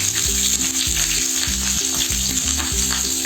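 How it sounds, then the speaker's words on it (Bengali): Chopped onions, garlic and ginger sizzle steadily in hot oil in a pan for an egg curry, a close continuous frying hiss with soft rhythmic stirring underneath. "এবার আমি এটাকে হালকা ফ্রাই করে নেব।"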